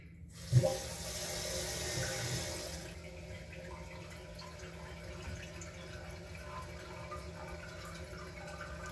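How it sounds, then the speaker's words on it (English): Water rushing from a freshly reopened supply line to a newly installed bidet, starting with a sharp burst and a loud steady flow for a couple of seconds, then settling into a softer continuous trickle and hiss. "all we have to do is just turn back the water supply and check for a leak anywhere"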